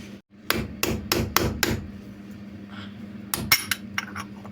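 Sharp metallic hammer taps driving a new cap into a Renault Modus rear bearing housing, a quick burst of five, a pause, then another cluster of lighter taps, up close in a quiet room.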